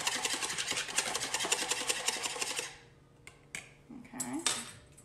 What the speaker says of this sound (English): we're gonna make sure our egg whites are just really frothy and mixed together with that vanilla